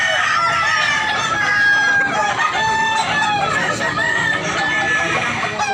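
Roosters crow repeatedly in a yard crowded with gamefowl, including bullstags, and the overlapping calls ring out loud and close with no talk over them.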